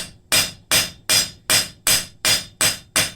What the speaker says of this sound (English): go ahead and planish out all those little hammer marks we made